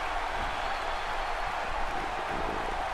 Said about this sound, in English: this El Paso crowd is doing everything in their power to blow the roof off this place